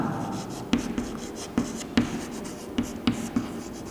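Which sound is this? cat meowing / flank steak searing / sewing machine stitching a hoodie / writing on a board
writing on a board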